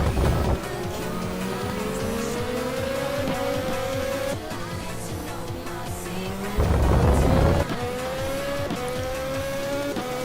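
Race cars in a Formula Holo racing game run nose to tail in single file, engines droning and rising in pitch as they accelerate, with a louder car sweeping close past midway.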